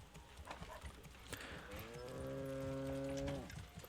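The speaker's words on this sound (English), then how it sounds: "And our ox has just mooed at us." An ox in the Manor Lords game gives a single drawn-out moo of about a second and a half, heard clearly amid soft clip-clop hooves and farmyard ambience.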